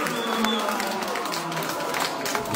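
An audience applauding at a concert in Quebec, a dense wash of clapping and crowd noise that stays steady and fairly distant throughout.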